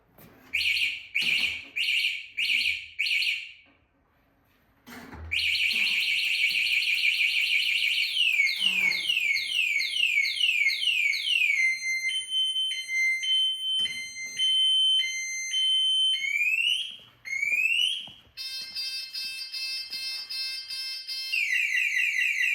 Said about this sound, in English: To set the alarm, it's the top one.